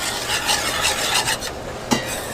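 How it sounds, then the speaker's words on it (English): Steady scraping swirl of a whisk working through milk in a pot on the stove, a continuous rhythmic rasp with a small clink near the end, close and alone. "I'm just going to whisk this"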